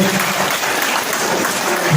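Applause from an audience at a student eloquence contest, a steady dense wash of clapping filling the hall for the whole stretch, loud and close.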